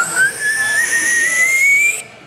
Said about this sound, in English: this is how you make a slide whistle out of a straw.